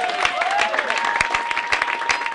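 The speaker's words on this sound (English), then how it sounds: "Give yourselves a round of applause." Comedy show audience applause, a burst of brisk, crisp hand clapping from a close crowd, continuous and energetic for a couple of seconds with no speech over it.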